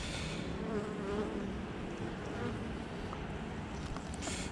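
Bees buzz steadily around a large, thriving hive colony, a dense continuous hum close by with no talking.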